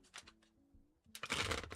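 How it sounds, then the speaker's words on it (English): Tarot cards riffle and slap together in a quick, crisp shuffle, close and quiet, with a brief faint rustle before it. "Okay, final shuffle."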